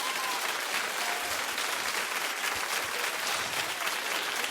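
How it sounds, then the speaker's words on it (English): A TV talk-show studio audience claps loudly and continuously, a dense, even wall of applause filling the short stretch with no speech on top. "Keep clapping."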